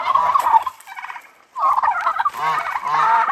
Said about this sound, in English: The turkeys don't really get after Bear the way they do Kelsey.